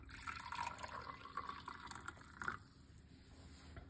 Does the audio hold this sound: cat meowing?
no